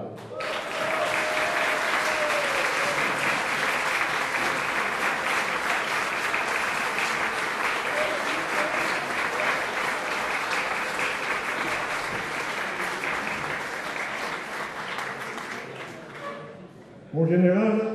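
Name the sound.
audience applause for the general's 65th birthday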